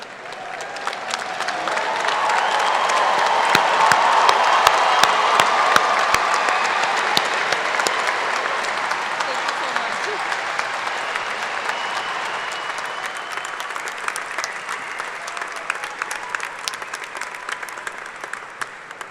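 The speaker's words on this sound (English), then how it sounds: "Can we give these graduates one more big round of applause?" A commencement audience applauding its graduates, sustained dense applause from a large crowd that swells over the first few seconds, then slowly thins and stays steady with scattered individual claps.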